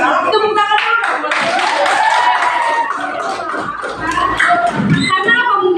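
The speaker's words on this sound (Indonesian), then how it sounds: "Tepuk tangan dulu." A classroom of young students claps together for a classmate, a lively burst of hand clapping mixed with children's voices and chatter throughout.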